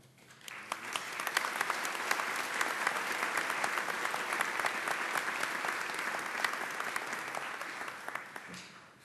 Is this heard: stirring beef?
no